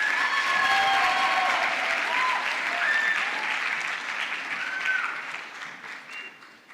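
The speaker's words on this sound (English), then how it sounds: "another round of applause to Fozia" A crowd applauds at a national youth exhibition award ceremony, with sustained clapping that holds strong, thins gradually toward the end and carries faint whistles or cheers over the top.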